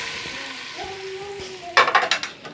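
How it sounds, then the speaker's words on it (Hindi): A sharp burst of sizzling and crackling erupts as hot tempering oil is poured into cooked red lentils, fading into softer spatters after a quiet stretch with faint tones. "अब ये तड़का ये दाल के अंदर जाएगा"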